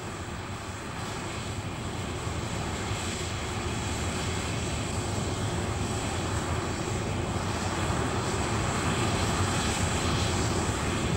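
A Concorde jet with four reheated Olympus engines takes off, producing a loud, continuous, broadband roar that holds steady throughout.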